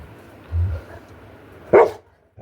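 A dog close by gives a low, brief woof and then a single sharp bark, both short and distinct against a quiet room.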